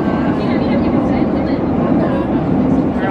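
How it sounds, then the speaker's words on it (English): A jam-packed subway train in motion on a trip in Portugal gives a steady, loud rumble and rattle throughout, with the murmur of a crowd of passengers blended into the noise. "We're on the subway and it's jam-packed."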